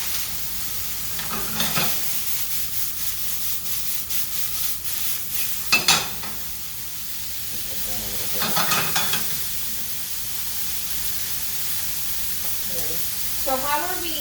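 Ribeye and filet steaks searing on a grill, a steady sizzle with scraping and shifting sounds, while people talk over it intermittently.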